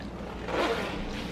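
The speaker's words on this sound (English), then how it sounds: "Zipping up the coat." A coat zipper is pulled up in one quick, scratchy zip, close by over steady background noise.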